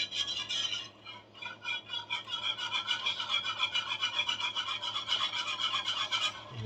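A whisk scrapes briskly against a pan, stirring gravy and stock cubes in a quick, rhythmic rasp that carries on steadily at close range with no one talking.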